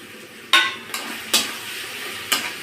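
Washed, drained masoor dal is stirred in a pan with a utensil: four or five sharp scraping strokes against the metal, close and distinct, over a faint background sizzle.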